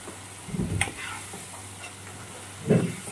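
Ground mustard, ginger and garlic paste going into a pan with fish, then stirred: two soft dull scrapes with a quiet hiss between them, close and faint.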